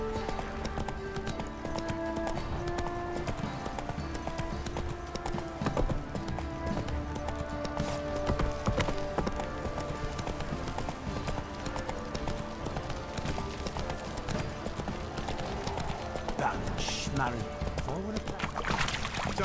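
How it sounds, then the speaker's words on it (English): Horse hooves clip-clop in The Witcher video game, a steady rhythmic trot under game music and character voices, with a horse whinny near the end. "Time to water the horses."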